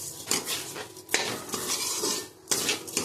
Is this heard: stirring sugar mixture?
yes